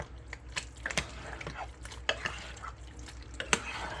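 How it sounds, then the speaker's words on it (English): Meatball sauce is stirred into noodles, giving soft wet sloshes and clinks of a utensil against the pot at irregular intervals, fairly quiet and close. "Let's get that stirred up in there nice. Let the sauce get mixed up into those noodles."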